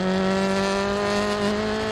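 Rally car with a blown radiator on a snowy stage, its engine droning steadily and struggling to pick up speed, a loud, continuous strained tone with no voices.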